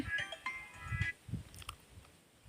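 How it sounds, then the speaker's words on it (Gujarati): A mobile phone's ringtone plays faintly as a short melodic jingle for about a second and then stops, leaving low indoor rumble and quiet handling noise. "કોમના ટાઈમે ચિયાનો ફોન આવ્યો વળી"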